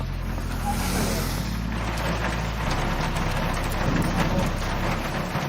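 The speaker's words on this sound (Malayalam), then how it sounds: "മഴയാണ്" Rain falling in Vellarada panchayat as a steady hiss and patter over a low rumbling background, continuous and fairly loud, with no clear talk over it.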